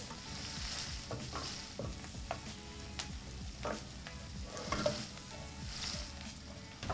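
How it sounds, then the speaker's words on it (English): Onions or shallots and garlic sautéing in a pan toward light caramelization, a steady soft sizzle with intermittent stirring scrapes and taps, close up and without talk. "Just what I do is just get a nice light caramelization on the onions or shallots and garlic"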